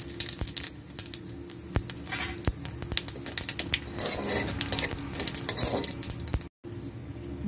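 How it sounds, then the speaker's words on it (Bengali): Whole cumin seeds fry in hot oil in a pan, giving a continuous crackling sizzle with sharp utensil clinks and scraping from stirring, then a brief drop to silence near the end. "তেলেই আমি একটু গোটা জিরা দিয়ে দিচ্ছি।"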